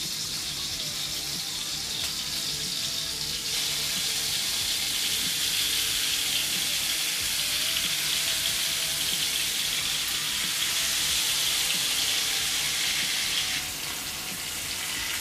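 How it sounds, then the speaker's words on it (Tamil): Fish frying in hot coconut oil in a pan, a steady dense sizzle and hiss that fills the whole stretch without pause, close and fairly loud with no talk. "இப்போ நம்ம மீனை ஃப்ரை பண்ண ஆரம்பிச்சிடலாம்"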